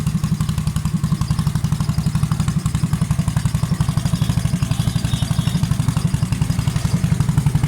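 A blue motorcycle engine runs steadily while riding, with a low, even rapid-pulse drone that carries close and loud from start to finish, and no talk over it.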